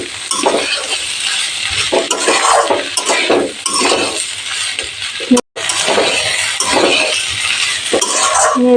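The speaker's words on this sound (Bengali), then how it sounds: "মটরশুঁটি বয়েল করে অ্যাড করে দিলাম সব একসাথে মিক্স করে নিচ্ছি নেড়ে" A spoon stirs and scrapes a potato mixture with boiled peas in a pan, making repeated close metallic scraping strokes with soft sizzling beneath, broken by one brief silent gap.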